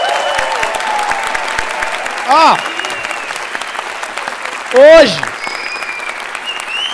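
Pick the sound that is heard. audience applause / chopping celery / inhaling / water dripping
audience applause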